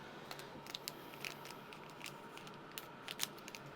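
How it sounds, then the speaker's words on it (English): Quiet, crisp snipping and crinkling close by, a series of short irregular cuts as scissors open thin packaging. "That'll be a lot easier if I use scissors to open this."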